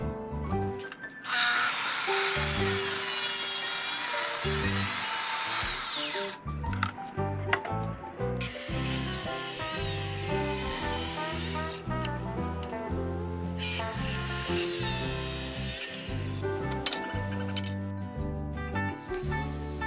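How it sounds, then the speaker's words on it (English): Track saw cutting tapers in wood for an Arts & Crafts porch column: a loud sustained cut runs for several seconds, then two further shorter passes follow, with quieter low thumps and knocks between them. "This track saw makes cutting tapers really easy."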